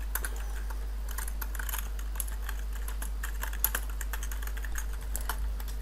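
Fingers tap steadily on a computer keyboard while text is entered in Scratch. The close, brisk keystrokes run over a constant low hum.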